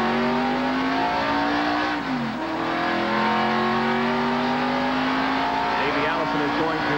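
A NASCAR stock car at Talladega during the 1987 Winston 500 roars loudly out of the pit area, its engine revving and shifting pitch continuously, with a race commentator talking over it.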